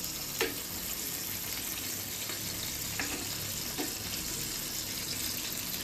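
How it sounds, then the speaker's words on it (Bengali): Pointed gourd pieces fry in hot oil with a steady, even sizzle, joined by a few light taps of a utensil against the pan. "অপোজিট সাইডটাও ঠিক এরকম হালকা করে ভেজে নেব"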